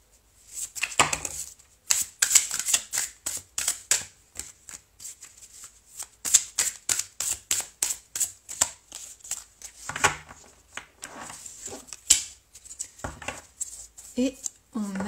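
Tarot cards are shuffled by hand in a long run of quick, crisp riffles and flicks, close by and fairly loud, with short pauses between bursts.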